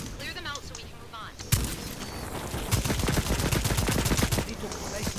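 Gunfire in the dinosaur shooter Second Extinction: a sharp shot, then a dense run of rapid automatic rounds, loud and close, with other weapon sounds behind.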